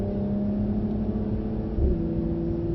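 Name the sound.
car accelerating on a driving track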